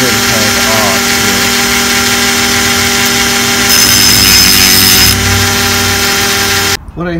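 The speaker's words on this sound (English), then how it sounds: "I'm using this Dremel, this attachment on it, to grind this kind of rivet head off here." A Dremel rotary tool grinding the head off a metal rivet during a wooden window sash chain and pulley repair: loud, steady high-pitched whine close by, easing as it nears the end, then stopping abruptly.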